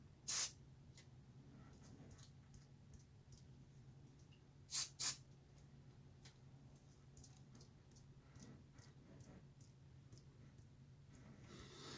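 Quiet room tone, with a few short, sharp hisses from a spray paint can sprayed onto a finger: one burst near the start and a quick double burst midway.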